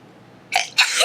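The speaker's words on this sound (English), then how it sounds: "I'm about to sneeze." A single sharp sneeze bursts out, followed by a second louder breathy burst, close and loud after a moment of quiet room tone.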